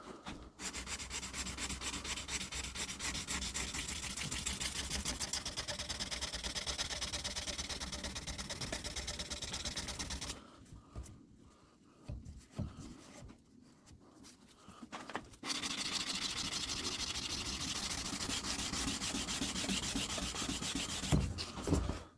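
A belt sander with a 400 grit belt grinds a knife blade for a drop point hunter. A loud continuous abrasive rasp runs for about ten seconds, drops to quiet scraping, then resumes at full strength.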